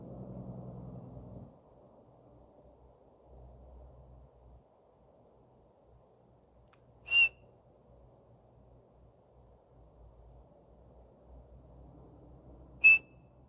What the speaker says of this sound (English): thought I just heard a whistle twice right there.